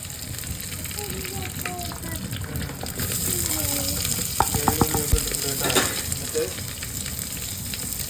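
Garlic fries in a hot pan with a steady, close sizzle and occasional clinks and scrapes of stirring. A few short bright knocks come near the middle, and voices talk faintly in the background.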